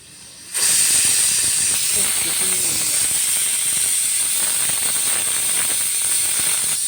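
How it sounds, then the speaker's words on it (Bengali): A pressure cooker cooking mutton bursts into a loud, continuous hiss of escaping steam after a short quiet moment, and the whistle-like roar holds steady to the end. "এবার 2 নম্বর সিটি পড়ছে"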